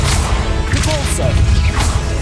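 Depulso spell cast in Hogwarts Legacy, a short forceful whoosh and crashing thump amid busy game noise, with a voice briefly audible.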